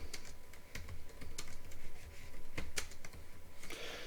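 Keys clacking on a computer keyboard as a folder name is typed, a quick irregular run of close, sharp taps with brief pauses between bursts.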